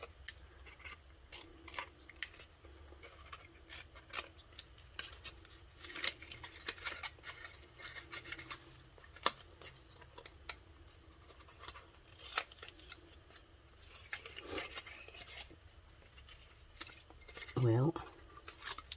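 Scissors snipping and trimming small tabs on a handmade paper lip balm gift box, faint scattered clicks and cuts at close range with soft handling of paper throughout.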